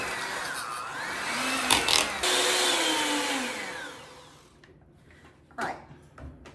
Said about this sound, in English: Let's go ahead and turn on the mixer and just make it a little creamier.